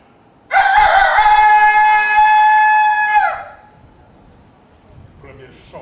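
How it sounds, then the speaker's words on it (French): A rooster crows once during a stage performance, a loud, long, ringing call lasting about three seconds that trails off, followed by quiet. "Premier chant du coq."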